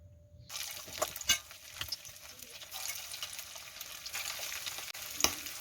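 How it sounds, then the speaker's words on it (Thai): Pork laab patties mixed with shallot and coriander sizzle and crackle steadily in hot oil, with occasional louder pops and stirring clatter, close up and without talk. "เรามาทอดเลยเนาะ"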